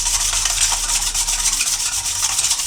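Salt and soda being mixed by hand in a bowl while making papdi gathiya dough, a steady scratchy rubbing that continues without pause at close range, with no talking.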